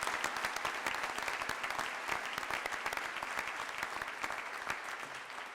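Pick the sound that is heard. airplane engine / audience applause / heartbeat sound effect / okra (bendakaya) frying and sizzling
audience applause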